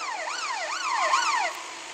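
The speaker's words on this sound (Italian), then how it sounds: "ho migliorato una cosa, la sirena" A police siren in the video game Let's Be Cops 3D wails up and down in about three smooth sweeps, clear and fairly loud, then fades out.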